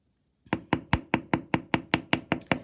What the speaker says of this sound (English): I'm just using my steel block and my nylon hammer